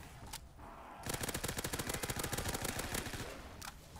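Rapid automatic gunfire from a zombie shooter game rattles in a dense sustained burst for about three seconds, preceded and followed by a few single shots, loud and close.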